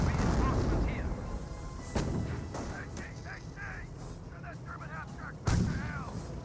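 Mortar fire in the World War II strategy game Company of Heroes, with loud booming blasts near 2 and 5.5 seconds over continuous battle rumble and gunfire, and a commentator talking throughout.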